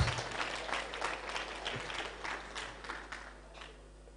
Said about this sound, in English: Clap for your phone.